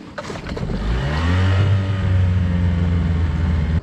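A small Yamaha four-stroke outboard motor on a fishing boat revs up and settles into a steady, droning hum close by, with rising and falling pitch.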